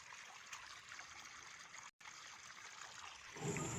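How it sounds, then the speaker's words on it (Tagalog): Water pours and trickles steadily from a tilapia fishpond outlet, a continuous splashing rush that swells slightly louder near the end, with no one speaking. "Ayan po yung labas ng tubig."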